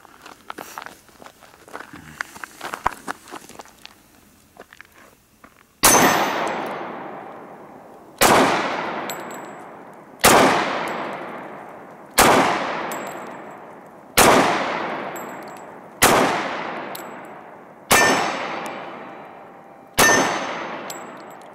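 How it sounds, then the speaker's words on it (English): A nickel Sig Sauer Compact 1911 pistol fired left-handed: after some quiet handling noise, eight loud, crisp shots follow at an even rhythm about two seconds apart, each ringing out with a brief echo. "I'm gonna try a little left-handed shooting here."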